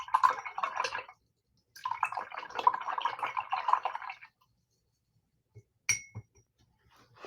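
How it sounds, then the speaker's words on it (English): A paintbrush swished and tapped against a water container while being rinsed after acrylic painting gives two longer runs of quick glassy clinks and rattles, close and fairly quiet, followed by a few isolated knocks and drips. "I'm gonna wash my brush"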